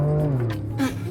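A Ford Ranger Raptor V6 engine revs nearby in the Philippines, a steady deep growl that swells and climbs in pitch briefly toward the end.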